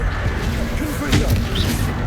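Confringo fire spell blast in Hogwarts Legacy, a crashing burst of impact amid continuous loud combat rumble, with a voice talking during it.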